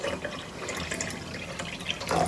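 Water being poured into a tall glass until about half full for a science experiment, a steady close trickling and splashing that runs through the moment without speech.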